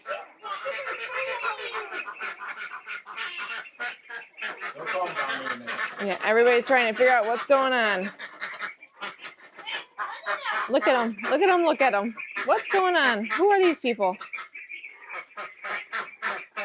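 A group of newly added farm ducks quacks and honks in bursts of excited calls. The calls come close by while people talk over them.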